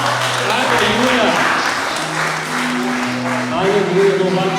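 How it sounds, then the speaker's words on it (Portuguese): A church congregation at a celebration service claps in praise, a full crowd applause running throughout while a sustained voice, singing or calling out, carries over the top. "Pode aplaudir o Senhor?"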